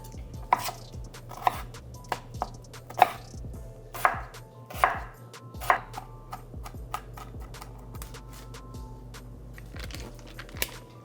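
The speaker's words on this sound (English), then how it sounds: "Let's peel some potatoes." Potatoes are peeled by hand with a peeler, giving a series of sharp, close scraping strokes and light knocks at irregular intervals over a low steady background hum.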